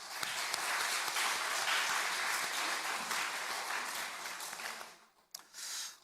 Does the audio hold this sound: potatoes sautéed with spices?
no